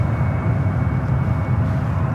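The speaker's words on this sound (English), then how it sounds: "Eva making its way over to the international terminal." An EVA Air jet taxis at San Francisco International Airport toward the international terminal, its engines giving a loud, steady low rumble with a constant whine above it and no break.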